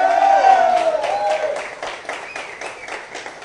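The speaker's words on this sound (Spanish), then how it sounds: "Fuerte el aplauso para Borrasca" An audience on a live show applauds the guest Borrasca. Clapping rises under a presenter's voice at the start, then continues as a steady run of claps with some crowd noise.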